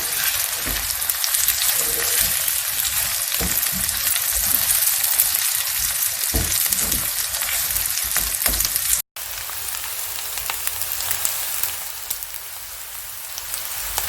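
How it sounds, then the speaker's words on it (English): Eggs seasoned with salt and pepper stir and cook in a pan, giving a steady, close broadband sizzle that runs almost without a break, with only a brief gap before the frying hiss resumes. "Slowly and gently stir until eggs cooked."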